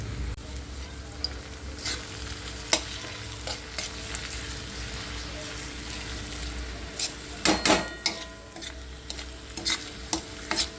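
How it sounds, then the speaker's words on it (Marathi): An egg fries in a pan for an egg chutney, a continuous soft sizzle with a low hum beneath, punctuated by sharp clicks and scrapes of a spatula stirring, the knocks clustering near the end. "आता याच्यामध्ये आपण अंड फोडणार आहोत"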